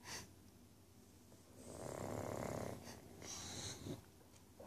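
An English Bulldog snores while asleep, with slow rasping inhales and snuffly exhales repeating softly at close range.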